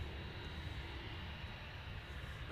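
A Cessna Citation business jet at Manchester Airport makes a faint, distant, steady engine roar with no nearby voices.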